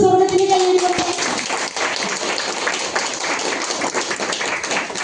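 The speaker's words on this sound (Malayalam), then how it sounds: "അല്ലാതെ കൈയടിച്ച് സ്വർഗത്തിന് കൈയടിക്കട്ടെ." A congregation at a Marian pilgrimage retreat claps hands together in a steady, dense patter that carries on for several seconds after a voice trails off at the start.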